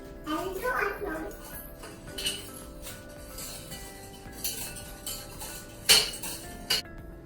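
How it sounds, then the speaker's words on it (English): Clattering of a utensil against a bowl as milk and sugar are mixed for an eggless vanilla cake batter, with light clinks and scrapes and a sharper knock near the end, under soft background talk. "Then mix the milk and the sugar"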